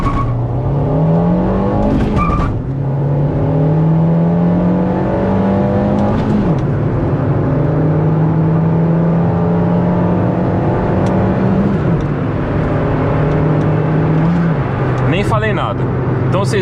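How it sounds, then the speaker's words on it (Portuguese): A Nissan March 1.6 accelerates hard away from a toll booth on the road, its engine note climbing through several gears with clear rising pitch sweeps and short dips at each shift, loud and close, with someone talking over it. "Eu vou sair aqui no pedágio e vou sair bem forte pra vocês verem."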